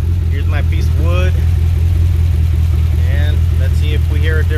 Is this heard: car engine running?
yes